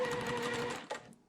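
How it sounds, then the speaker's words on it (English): A sewing machine stitches quilt rows together with a quarter-inch seam, a brief close whirring run that stops abruptly, followed by a small click. "we're back at the sewing machine, and we're going to use a 1/4 inch seam"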